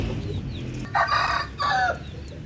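Roosters and chickens on a home farm cluck and call in two loud bursts over a low background murmur, close by.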